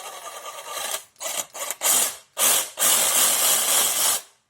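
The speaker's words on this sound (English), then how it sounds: "I'm going to put it in my reciprocating saw" A Ryobi reciprocating saw powered by a battery upgraded from 1.5Ah to 2.5Ah runs in several short, loud bursts, then in one longer continuous run before cutting off, heard up close.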